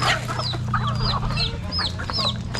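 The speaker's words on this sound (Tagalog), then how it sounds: "Mga manok ni tatay, oh." Chickens cluck and chatter close by on a small poultry farm, a busy overlapping stream of short calls over a low steady background hum.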